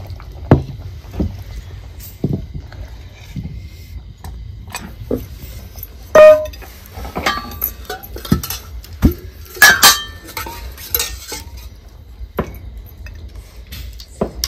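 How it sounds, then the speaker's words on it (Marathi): A metal kadai lifted off a home kitchen stove after cooking chicken curry: scattered light metallic clinks and knocks, sparse and irregular with a few sharper rings, near and otherwise quiet. "आता ही कढई खाली उतरते."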